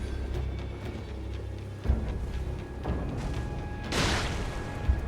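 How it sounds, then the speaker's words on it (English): A single explosive stone blast in Elden Ring, a short broadband boom near the end of the clip that rises over the steady game ambience, with a low thud just before it. "What is the explosive stone?"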